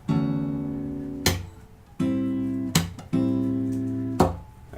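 Acoustic guitar strums minor 7 chords, each ringing chord punctuated by a sharp percussive slap on the body, alternating in a steady groove of sustained strums and hits, close and clear.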